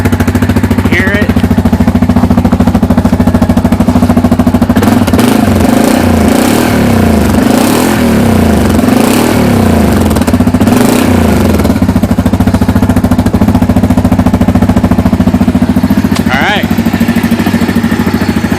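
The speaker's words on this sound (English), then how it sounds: "There's the stock exhaust." Stock exhaust on a 2008 Yamaha Grizzly 700 ATV, idling steadily and loud up close for the whole stretch, with a few blips of throttle in the middle; a voice talks briefly over it.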